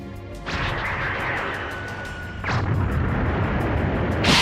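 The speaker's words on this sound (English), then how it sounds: "With a thunderous landing, the king wonders if they're experiencing an earthquake" Deep rumbling booms as the Saiyan base crashes down in a Dragon Ball game, two heavy impacts a couple of seconds apart, each followed by a rolling low roar, the second louder and more sustained.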